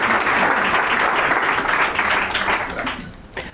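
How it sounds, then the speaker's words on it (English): An audience at a corporate demo day event breaks into a loud, sustained round of applause, dense clapping filling the room and tapering slightly at the end. "And I would like to welcome on stage, and with a big round of applause, please, Michal from edrone."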